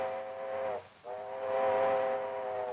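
Steam locomotive whistle on an approaching train at a Western railroad station around 1939, sounding as a loud sustained chord, breaking briefly near the middle and then resuming, strong and unbroken, with no voices.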